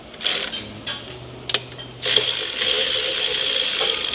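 A socket wrench on an extension works a nut on a Duramax LBZ 6.6 diesel engine, with a few short ratcheting bursts and sharp clicks, then a steadier mechanical whir, close by.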